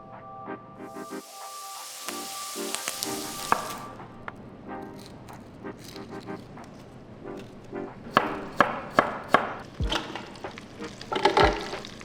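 Oxtail pieces sizzle and fry in a hot pan as they brown for soup, a steady crackle broken by utensil clinks and sharper bursts of spattering toward the end.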